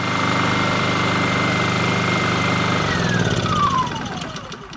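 Honda EU2000i inverter generator running after a carburetor cleaning and eco throttle repair, a loud steady engine hum close by that drops in pitch as it slows near the end.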